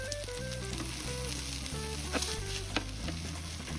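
Chili and onions stir-fry in a hot pan with a loud, steady sizzle and occasional scraping stirs throughout, with no voices.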